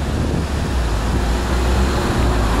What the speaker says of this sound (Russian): На жаль, сьогодні вітер дуже сильний, тому буде шум.